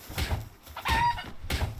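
Short clucks from a chicken in the Palworld video game come in three quick bursts, fairly quiet and close, with no talking.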